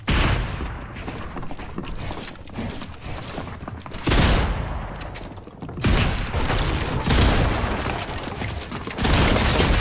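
Shotgun blasts in a Fortnite random-shotguns weekly mode, with loud broadband bursts near four, six and nine and a half seconds over a steady bed of game noise.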